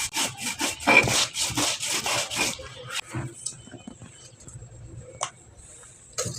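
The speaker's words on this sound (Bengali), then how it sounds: "কালো জিরা শুকনো বাটা যায় না, পানি দিয়ে দিয়ে বাটতে হয়।" Black cumin seeds being ground with water on a traditional grinding stone, a rough repeated rubbing and scraping at close range, strong and rhythmic for the first half, then fading to softer, sparser strokes with faint background noise.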